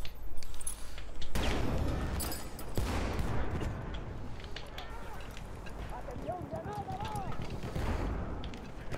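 Gunfire in Battlefield 1, with sharp shots and bursts crackling through a busy battle din, mixed with speech from players talking over it.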